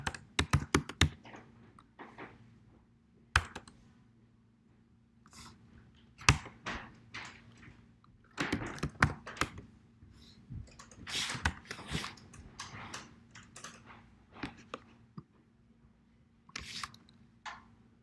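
Rapid bursts of computer keyboard typing, near and fairly crisp, come in irregular clusters separated by short pauses over a steady low hum, with no talking.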